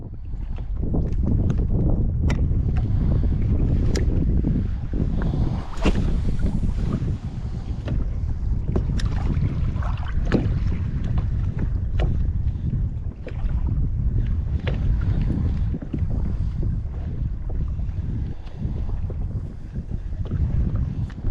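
Wind gusting over the water during kayak fishing, a loud, constant roar buffeting the microphone, with occasional knocks and splashes against the boat and no talking.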